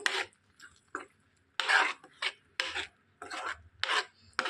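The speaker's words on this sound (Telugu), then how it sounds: "నూరుకున్న ఈ గుజ్జుని ఇందులోకి వేసేసుకోవాలి మొత్తం కలిపేసుకోవాలండి" Ground paste being stirred into paneer masala curry in a pan, a series of about eight rasping scrapes of a spoon against the pan in an uneven rhythm, close and clear with no talk.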